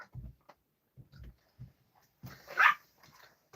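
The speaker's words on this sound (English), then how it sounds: "He's barking at flies." A dog gives a series of low, close barks and grumbles, ending in one louder, sharper bark followed by soft whines.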